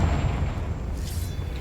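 A Confringo spell explosion in the game Hogwarts Legacy, heard as a dense, booming blast that rumbles on and fades over about a second and a half, with no voices.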